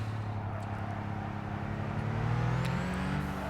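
Engine of a small Peugeot in Gran Turismo 5, a steady droning hum with rising pitch as it revs, constant and fairly loud with no voices over it.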